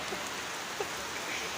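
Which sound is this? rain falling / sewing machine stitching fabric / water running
rain falling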